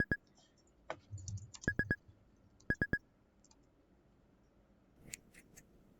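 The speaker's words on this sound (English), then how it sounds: "Ooh, I hear scissors." Scissors snip hair in the video game Butterfly Soup, a series of crisp, quick metallic clicks in short bursts of two and three, separated by quiet gaps, fairly faint and close.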